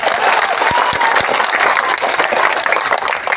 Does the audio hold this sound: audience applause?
yes